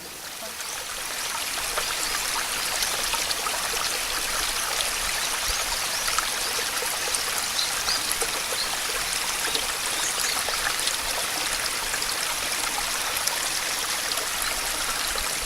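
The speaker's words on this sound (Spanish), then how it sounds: "un ruido blanco que ha sido construido para dar la sensación de río" Steady, broadband white noise built to sound like flowing river water, dense and continuous at a constant loudness for the whole stretch, with no voices.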